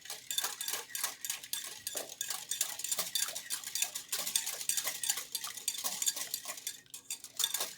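Butter being mixed into donut dough in a bowl, with rapid, steady clinking and scraping of a utensil against the bowl, close and continuous, no talk.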